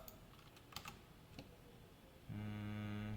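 Soft, sparse keystrokes tap on a computer keyboard during coding, a few faint clicks at a low level before a steady electronic hum cuts in for the final second.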